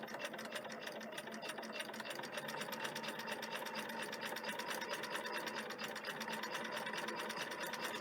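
A sewing machine stitches steadily along the edge of a fabric piece, following curves with the presser foot edge as a guide; a continuous, even rapid whirring clatter runs the whole time, close and fairly loud, with no talking.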